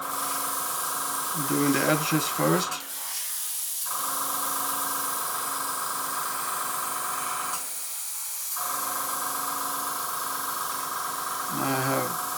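Steady airbrush hiss spraying paint at 1 bar on a model F-15C runs throughout, pausing briefly twice, while a person speaks briefly near the start and end.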